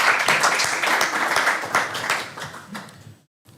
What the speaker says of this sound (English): We give applause, big applause to presenter.